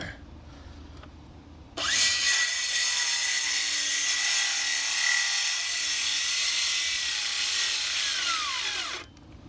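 A Makita cordless power saw cuts through scrap wood for an outboard motor stand, a loud steady whine starting abruptly and holding for about seven seconds before cutting off, with no talking.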